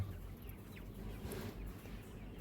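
Low, quiet clucking of free-range village chickens at a poultry farm, mixed with faint bird chatter over a soft background murmur, no talking.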